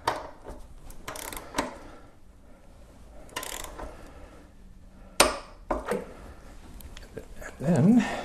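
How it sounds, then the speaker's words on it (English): Ratcheting clicks and metallic mechanism sounds from a torque wrench tightening the main axle bolt on a Honda RC51 motorcycle, several short bursts near and moderately loud, with a louder cluster toward the end. "So the first thing I have to do is actually torque down the main axle bolt,"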